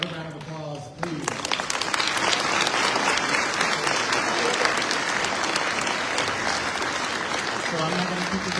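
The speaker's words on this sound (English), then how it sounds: "Another round of applause," Audience applause during a peace talk at a Christian church, a long, loud, even burst of many hands clapping up close that starts after a brief spoken introduction and carries on for about seven seconds.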